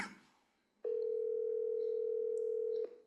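Telephone tone on a call forwarded to voicemail: one steady electronic beep lasting about two seconds, following a brief fading noise.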